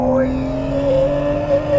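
A 1,000 HP Nissan R34 Skyline GT-R accelerates on a road, its engine note climbing in a steady, loud tone with a rising whine, close up and continuous through the short moment.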